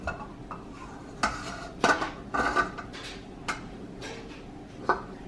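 Clinks and soft thuds of butter dropped and scraped into a mixing bowl for Christmas cookie dough, several distinct close knocks spread over a few seconds, with no talking.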